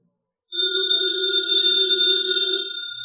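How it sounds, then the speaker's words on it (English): An old-time radio drama telephone bell rings in one sustained, loud electric trill lasting about two and a half seconds, clear and alone with no talk over it. "that phone bell means exciting adventure"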